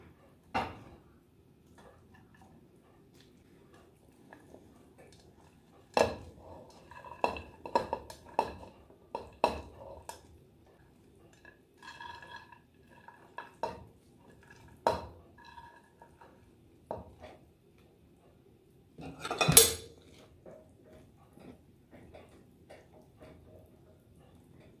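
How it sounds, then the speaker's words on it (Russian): Cauliflower pieces go into a pot of pumpkin soup, giving scattered clinks and knocks of utensils against the pot, with one louder clatter near the end, close up in an otherwise quiet kitchen without speech. "И теперь я добавляю цветную капусту."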